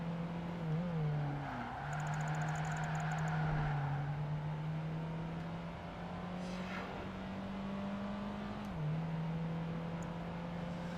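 A Lotus Esprit V8 engine revving in Project Gotham Racing 2, heard as a steady, moderately loud drone that shifts pitch through gear changes and holds a sustained whine, with no talking.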